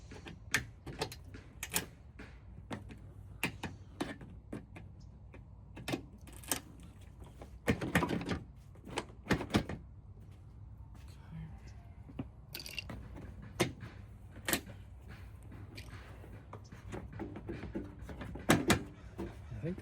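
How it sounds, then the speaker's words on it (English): Old brittle plastic clips are pulled out of a 2011–2023 Dodge Charger wiper cowl, giving scattered sharp snaps and pops at irregular intervals, with some handling rustle and faint talk in between. "pull these old plastic clips out, which are definitely past their life expectancy"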